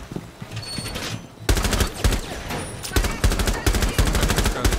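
Rapid bursts of automatic gunfire in the video game Rainbow Six Siege rattle in quick succession, loud and close, with short pauses between volleys.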